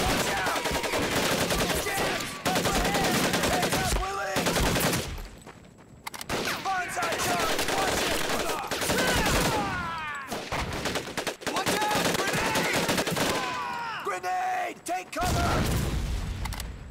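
Heavy rifle and machine-gun fire in Medal of Honor Pacific Assault during a last stand against a Japanese banzai charge. Dense, loud bursts and rattling volleys repeat with brief gaps, and voices shout over the shooting.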